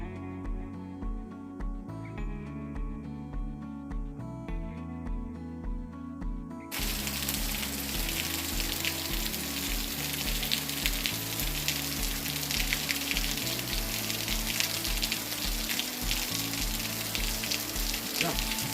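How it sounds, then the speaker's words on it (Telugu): Water spills and rushes over rocky hillside boulders at a waterfall near the Punyagiri Shiva temple, a loud continuous hiss that bursts in after several seconds of music, which keeps playing beneath it. "ఇక్కడ కొండల రాళ్ళ నుంచి ఉబ్బుకు పడుతున్నట్టుగా నీళ్లు వస్తూనే ఉంటాయి."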